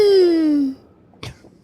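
A voice imitates a suppressed sneeze: a strained, squeaky vocal tone slides downward and fades, then comes a short, soft puff of breath.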